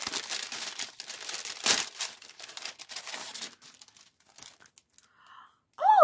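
Cardboard and paper packaging of a Mrs. Brimbles advent box being torn open, a long run of ripping and crinkling with crunchy bursts that thins out near the end before a voice cuts in.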